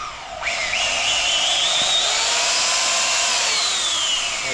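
A small belt sander runs steadily at a loud, high whine after a quick spin-up, continuing alone for several seconds.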